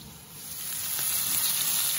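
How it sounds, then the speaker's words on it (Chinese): Chicken wings pan-fry slowly over low heat, giving a soft, steady sizzle that swells slightly and holds for a couple of seconds, close up and without voices. "小火，它是小火慢 煎"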